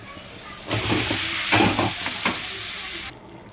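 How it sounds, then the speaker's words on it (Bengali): Vegetables for a small-fish curry sizzle loudly as they drop into hot oil in a pan. The frying swells abruptly with crackling and stirring scrapes, then cuts off sharply near the end. "সবজিটা ছেড়ে দিব এখন"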